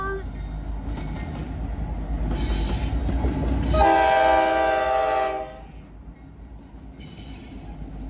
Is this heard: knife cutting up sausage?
no